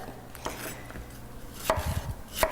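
A knife chops peppers into thin strips on a cutting board, a few sharp, close knocks spaced irregularly and clustered toward the end, with no talking.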